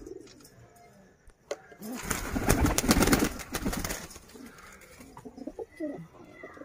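Pigeons in a rooftop loft in Multan coo and call close by, with a louder burst of fluttering and calls in the middle before settling back to softer, scattered cooing.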